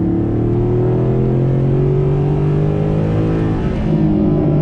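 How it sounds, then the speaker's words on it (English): A 2012 Mercedes-Benz SLS AMG engine roars loudly and steadily, its pitch gliding slowly upward as it revs from about 3,000 RPM, close and continuous with no voices. "you hear the roar, the sound of that engine."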